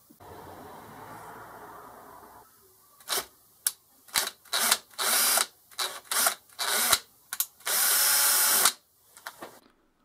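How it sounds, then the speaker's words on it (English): A drill bores a hole through a spindle fitted with an ER20 collet holder, whining in several short, loud close bursts separated by pauses, after a quieter stretch of low background noise. "So the next thing I want to do is drill a hole through, tap it M5, put a grub screw in to lock this collet onto the spindle."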